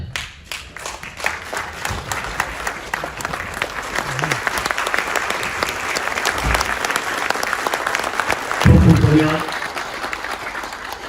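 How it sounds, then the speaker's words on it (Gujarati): Audience applause at a book launch and ideal-teacher honour ceremony, a dense, steady clapping that fills the whole stretch and swells slightly near the end. "આપણે આપણી જગ્યા ઉપર ઊભા થઈ અને એમને તાળીઓના ગણગડાટથી વધાવવા જોઈએ"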